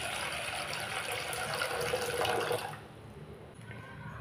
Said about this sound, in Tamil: ஒரு 2 டம்ளர் தண்ணி சேர்த்திக்கலாங்க.